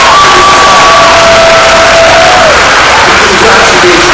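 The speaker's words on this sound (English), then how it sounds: "Bring up that applause for all of these major congratulations." Graduation ceremony audience in Trinidad and Tobago cheering and applauding in a loud, dense crowd roar with whoops and a few sustained shouted tones, continuous throughout.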